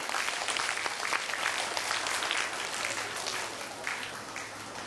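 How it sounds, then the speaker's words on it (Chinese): Applause from the audience at a primary school graduation ceremony, dense steady clapping from many hands that holds at an even level the whole time, no talking. "我们掌声欢迎林超良总干事啊颁奖"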